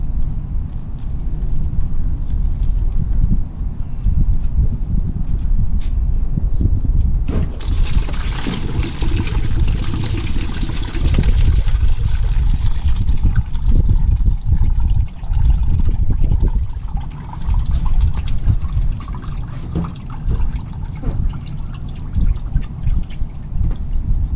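Coolant water draining from a GSXR 600 motorcycle radiator during a second flush, a steady loud liquid pour and trickle running throughout, growing heavier partway through, with no talk.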